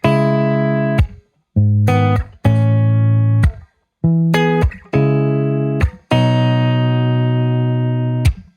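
Clean electric guitar through a Fender Deluxe Reverb cabinet, miked with a 421 close on the cap edge blended with a 4038 ribbon, playing a run of sustained chords with short gaps between, bright on top and full in the lows.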